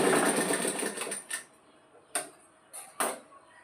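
A sewing machine runs in a steady stitching burst while sewing a blouse back belt, then stops and gives a few short separate clicking runs, close and moderately loud.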